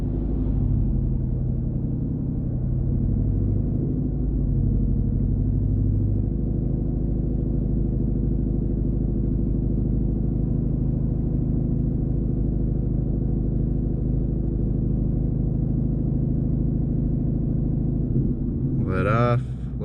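Engine of a 2019 Mustang GT held steady at about 1500 rpm, a loud, even, close rumble that stays constant for nearly twenty seconds before a brief change at the end.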